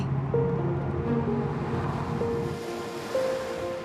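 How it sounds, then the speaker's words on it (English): Indian Ocean waves lap onto a white-sand beach at Rockingham, a coastal town south of Perth, giving a steady, moderately loud wash of surf with some wind over the shore and no voices. "The white sands lapped by the incredible crystal clear waters of the Indian Ocean."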